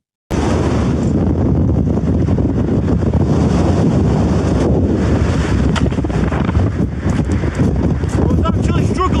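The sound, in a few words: fierce wind at a campsite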